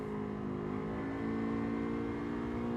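In Gran Turismo 7, a Honda Civic with a swapped engine accelerates out of a corner, giving a steady, sustained engine drone that rises slightly in intensity partway through. The sound is fairly quiet and has no talk.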